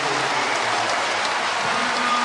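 Basketball arena crowd roars and applauds after a three-pointer, a steady loud wash of cheering and clapping that holds throughout.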